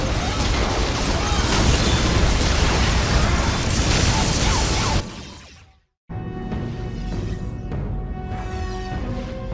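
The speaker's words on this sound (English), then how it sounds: "This area must be cleansed with orbital fire." An orbital bombardment explosion in Dawn of War Dark Crusade: a long, loud, dense roaring blast for about five seconds, then a sudden drop to silence before a rumbling aftermath with music resumes.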